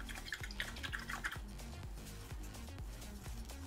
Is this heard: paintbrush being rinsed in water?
yes